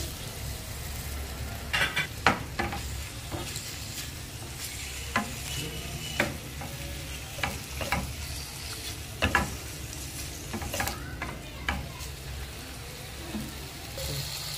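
Cubed chicken fries over low heat in a pan, giving a steady close sizzle broken by repeated stirring scrapes and clinks, with no voices.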